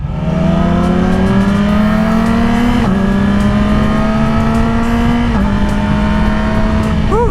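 A Yamaha R6 600cc sport motorcycle with a Yoshimura exhaust tip and quick shifter is ridden: a loud, steady high-revving engine drone climbs and shifts up twice, close and continuous, with no talk.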